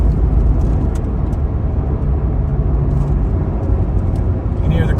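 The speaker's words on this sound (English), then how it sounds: "The car downshifting, the hill's so steep." Chevrolet Corvette C8 Z06 climbing a steep mountain road, its engine droning loud and steady from inside the cabin, a low continuous rumble with a downshift change near the end.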